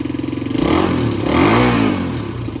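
A 1988 Honda XR600 motorcycle engine idles with a close, loud thumping rhythm, then revs up twice in quick succession, rising and falling with a rough, throaty single-cylinder tone.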